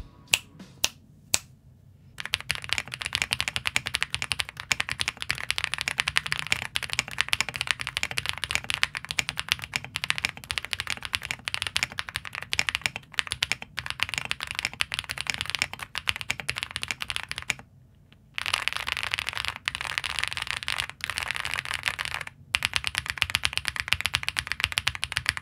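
Rapid, continuous typing on a Meletrix Zoom 98 mechanical keyboard fitted with all its foams and die-set PBT keycaps, a dense close stream of clacky keystrokes with a couple of brief pauses and no talking.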